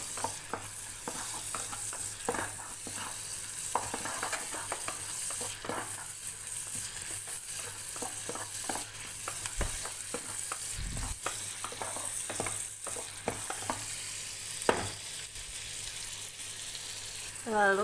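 Sliced onions sizzle in margarine in a pan for broccoli gratin, a steady frying hiss broken by repeated scraping and stirring strokes, close and continuous.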